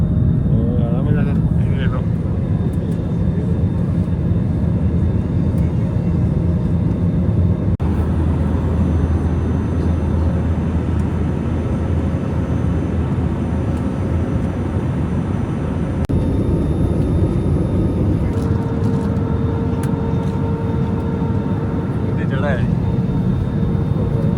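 Steady loud engine roar of an airliner taking off, a continuous rumbling drone that persists throughout without pause.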